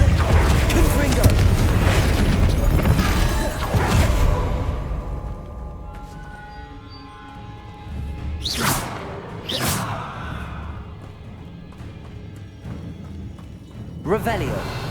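Fire-spell blasts from the Hogwarts Legacy video game, with whooshing bursts and booms over dense, loud game music and ambience, followed by quieter sweeping impacts.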